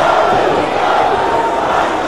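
Crowd of about a thousand fans at a Reality of Wrestling match cheering and shouting, a dense, sustained roar throughout.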